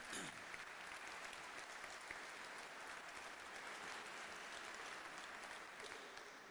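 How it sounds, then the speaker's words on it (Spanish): A crowd at a political gathering on 30 years of democracy breaks into sustained applause, a steady even wash of clapping that is quiet in level but fills the whole clip. "Yo voy a pedir otro aplauso para Leopoldo."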